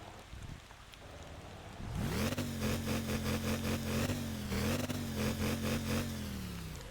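A swapped-in car engine, replacing the default inline-four in the Motor Town video game, starts up after a quiet moment and revs repeatedly in rhythmic pulses, loud and close.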